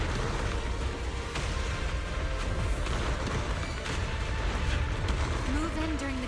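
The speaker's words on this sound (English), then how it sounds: "Move in during the gap between explosions." Continuous booming explosions and rumbling blasts from a video game battle fill the scene, dense and loud throughout with overlapping impacts and a brief rising tone near the end.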